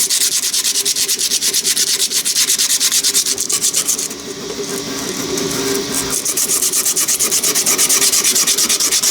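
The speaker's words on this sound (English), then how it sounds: "I think if I went over that with a bit of sanding paper." Sandpaper rubbed over a 3D printed plastic part with quick, rhythmic back-and-forth scratching strokes, close and loud, pausing briefly midway before resuming at a steady pace.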